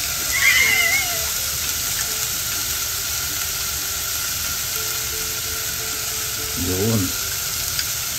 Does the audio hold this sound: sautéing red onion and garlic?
yes